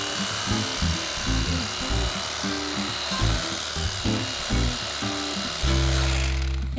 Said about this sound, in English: an electric knife. It just makes it so much simpler to get uniform slices